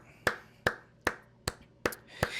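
Six sharp hand claps at an even pace, about two or three a second, close and distinct, with no talk over them.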